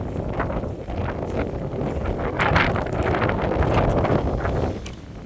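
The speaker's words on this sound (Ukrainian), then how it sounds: "у нас тепер на ділянці завиває вітер" Strong wind roars and gusts against the microphone, swelling louder in the middle with rustling bursts, then easing off at the end.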